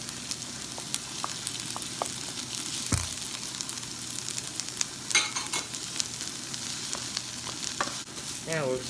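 Bacon frying in a pan on medium-high heat gives a steady, close crackling sizzle with soft stirring scrapes and a few small clinks, with no talking.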